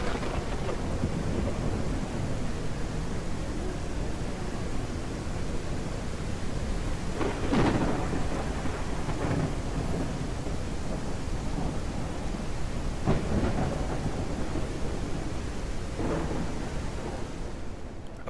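Steady rain pours in the Ranch Simulator game world, with a few deep thunder rumbles rolling in around the middle and near the end, loud and continuous with no talking.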